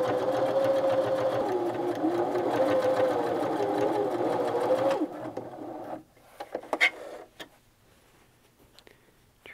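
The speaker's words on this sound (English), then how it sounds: "Next, we take it over to our sewing machine." A sewing machine stitches quilt binding in a fast, continuous burst, then stops, followed by a few close handling clicks and rustles.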